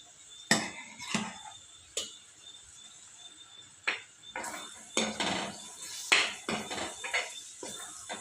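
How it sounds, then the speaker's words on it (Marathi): A metal spoon clinks and scrapes in a pan as mashed vegetables are mixed into pav bhaji masala, with irregular sharp knocks and scraping strokes, close and fairly quiet, no talk. "आता आपण ते जे मॅश करून ठेवलेलं होतं ते आता यात टाकायचं आहे।"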